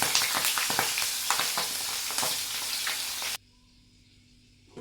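Green chillies frying in hot oil for potato bhaji make a loud, steady sizzle with occasional stirring scrapes, cutting off abruptly into near silence toward the end.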